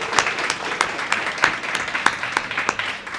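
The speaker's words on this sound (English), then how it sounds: "Can we give them a round of applause?" An audience at a university venture competition event gives a round of applause, a steady wash of many hands clapping with a few sharper claps standing out.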